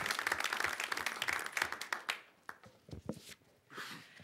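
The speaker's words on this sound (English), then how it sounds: "Can we have a round of applause for them?" Applause at a Port of San Francisco waterfront working group meeting: a short burst of room clapping that dies away after about two seconds into scattered individual claps and a few trailing hand claps.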